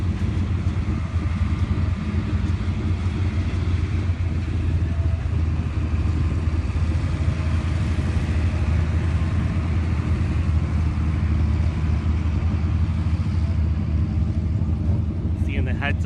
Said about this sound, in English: Seeing the heads-up cars rolling into the lanes for their next round of eliminations.